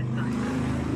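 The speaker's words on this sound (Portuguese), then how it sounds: "Eita, passou a moto." A motorcycle roars past in a Portuguese-language competitive shooter match, a steady low engine drone sitting close and fairly loud with no talk over it.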